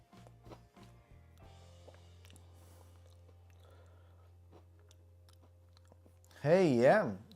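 Crisp, close crunching of a snack being chewed, a few quiet clicking bites over a steady low hum, then a brief louder voice near the end.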